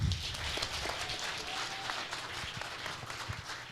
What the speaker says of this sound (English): Let's give them a better clap than that.